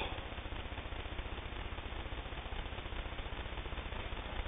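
Singer 301 Slant-O-Matic sewing machine stitching a seam in sheeting, a steady, fast, rhythmic mechanical clatter at an even pace throughout, close and moderately loud with no talk.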